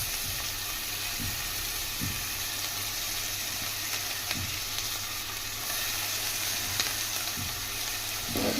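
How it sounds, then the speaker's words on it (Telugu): Mutton frying in ginger garlic paste masala for a hotel-style mutton curry, a constant loud sizzle with a few soft stirring scrapes spread through it, close and steady with no talking. "ఈ మటన్ కూడా ఈ మసాలాలో అల్లం వెల్లుల్లి పేస్ట్లోనే బాగా కొంచెం మగ్గించుకుందాం"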